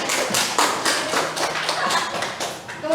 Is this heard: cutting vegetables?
no